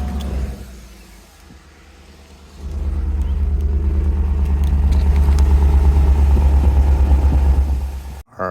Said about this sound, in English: Let's do our last cold startup on this one.